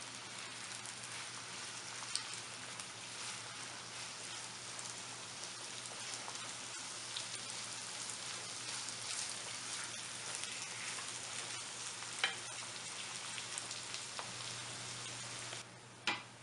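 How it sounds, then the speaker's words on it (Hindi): Chopped onions frying on medium heat until golden give off a steady, close, continuous sizzle that holds evenly throughout with no one speaking. "मीडियम आग पर प्याज को गोल्डन कर लें"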